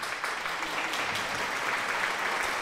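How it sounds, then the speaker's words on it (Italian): Steady applause from a crowd fills the whole stretch, a dense, even wash of clapping at moderate loudness with no pauses or talk over it. "Vi lasciamo un altro applauso"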